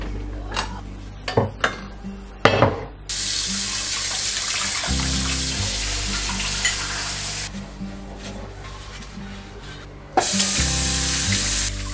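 Tap water gushes into a kitchen sink while pots are hand washed, with a few metallic clanks before a steady hiss of running water that stops and resumes, over quiet background music.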